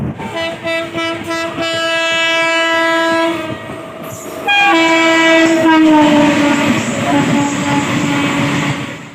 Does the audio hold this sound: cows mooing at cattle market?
no